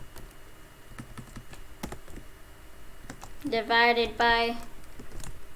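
Code is being typed on a computer keyboard in Python: brisk, scattered key clicks near the microphone, with a voice speaking over the later keystrokes.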